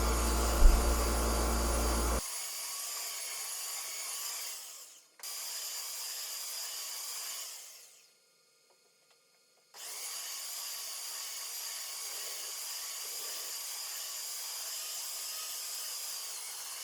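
A belt sander whines steadily while grinding against wood pieces for a doghouse, cutting out briefly twice, falling silent for a couple of seconds, then starting up again.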